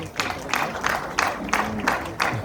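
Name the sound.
audience applauding Marlene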